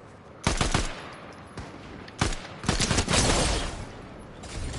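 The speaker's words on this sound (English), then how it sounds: "They're shooting me." Rapid bursts of automatic gunfire from a Fortnite match ring out close and loud in several volleys, separated by short gaps, with a longer sustained burst near the end.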